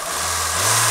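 A 2010 Middle East-market Hyundai Getz engine idles close by with a steady low hum and a smooth, even tone, heard alone without talk.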